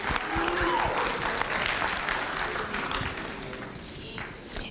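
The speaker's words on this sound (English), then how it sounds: "let's give her a round of applause" An audience at a Poetry Out Loud 2016 event applauds a musician, a dense, steady wash of clapping that holds throughout and eases slightly toward the end.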